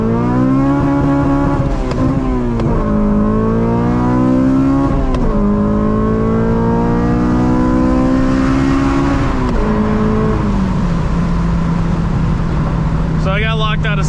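Honda car engine revving hard through several rising sweeps with clutch-kick launches, loud and close, ending in a lower steady drone, while a person talks over much of it.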